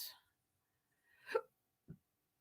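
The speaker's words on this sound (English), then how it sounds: "I just burped." A single short, low throaty burp from a person during a live writing session, close and fairly loud, following a brief breathy noise with quiet between.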